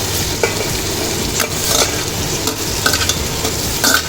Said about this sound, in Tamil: நான் இந்த பொரிச்சு வச்சுருக்கிற காய்கறி, கத்திரிக்காய், உருளைக்கிழங்கு, வாழைக்காய், பீன்ஸ், கேரட்டு எல்லாத்தையும் இதில் போடுறேன்